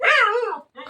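A dog gives one loud, close bark followed by a shorter second yelp, sharp and nearby.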